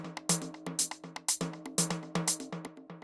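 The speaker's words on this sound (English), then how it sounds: "with the percussion, what I really mean is like the hi-hat and then these little things that I have in this drum rack" Minimal house percussion, a looping groove of crisp hi-hat ticks and small drum-rack hits in a steady syncopated pattern, fairly quiet and with no voices.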